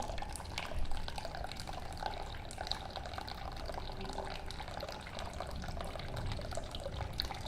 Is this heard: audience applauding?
no